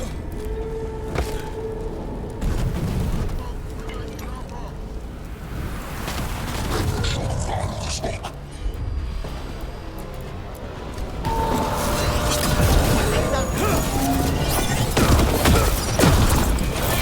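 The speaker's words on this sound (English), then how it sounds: "Cannon fire! Get clear!" Dense, rumbling barrage of cannon booms and crackling blasts in the video game Dragon Age: The Veilguard, loud and sustained throughout, growing heavier toward the end.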